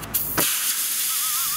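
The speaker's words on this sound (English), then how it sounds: "I've always wondered what happens if you slash the tires with a giant knife." Air rushes out of a Kia car tire slashed with a giant knife: a short knock, then a loud, steady hiss that carries on alone.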